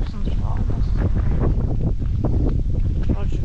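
Cold wind gusts across a mountain road in Spain during a bicycle tour, a loud, constant roar and buffeting against the microphone with no clear pauses.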